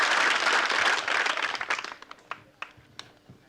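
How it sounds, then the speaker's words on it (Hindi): An audience at a health quiz show bursts into loud applause that holds briefly, then thins out into a few scattered final claps. "अब एक बार जोरदार ताली"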